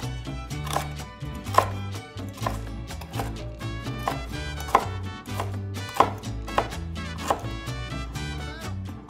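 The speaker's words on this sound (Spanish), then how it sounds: "me gusta cortar el chicharrón" A knife chops through crispy homemade chicharrón (pork rind) on a board in a steady run of crunchy, crackling cuts, each stroke a sharp close-up crack against a low background hum, with no talking.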